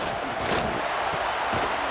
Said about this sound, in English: Here comes his home crowd as the defense tries to get off the field on 3rd down